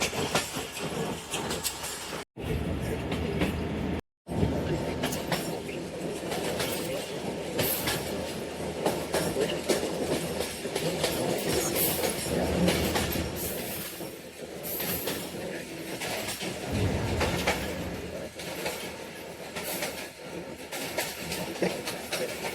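The Sialkot Express passenger train rolls along the rails, a dense continuous rumble with rhythmic wheel clatter and occasional squeals, heard from on board and loud for the whole stretch apart from two brief dropouts.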